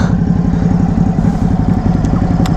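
A warm Ducati Hypermotard motorcycle engine idles close by, a steady, loud, throbbing rumble with an even pulsing beat and no talk.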